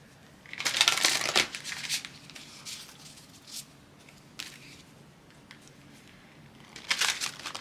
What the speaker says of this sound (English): Try not mess up the cards here while I shuffle.